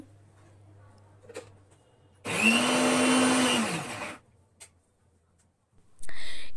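A kitchen blender grinds chopped amla and crushed ginger into a paste in one loud, steady burst of about two seconds, with a whirring pitch that drops slightly toward the end; a second short blender burst starts just as the clip ends.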